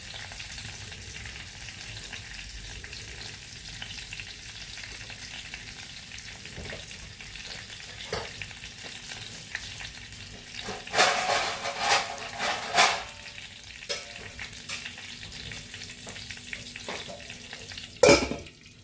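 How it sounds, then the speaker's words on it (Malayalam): Seeds crackle and pop in hot oil, a steady close sizzle with clusters of sharper spluttering bursts and a loud pop near the end. "കടുക് പൊട്ടി."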